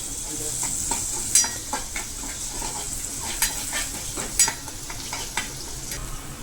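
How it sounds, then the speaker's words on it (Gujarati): Garlic paste sautéing in a pan, a continuous close sizzle with scattered scraping clicks of stirring throughout. "બંને વસ્તુને સરસ રીતે સતડાવા દેશું."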